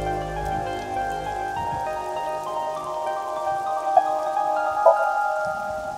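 Rain falls in a nighttime scene of the AI: The Somnium Files video game, a soft continuous patter under sustained tonal music, with a couple of brief louder taps.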